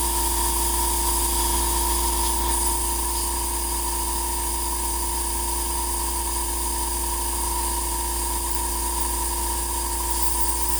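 Airbrush spraying out thinned paint and alcohol during cleaning, a constant loud hissing rush of air and mist that holds steady and close throughout, with no talking.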